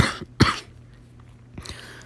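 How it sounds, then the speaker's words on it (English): A couple of sharp, close coughs in quick succession, followed by a quieter throat-clearing cough after a short pause. "I had a cough."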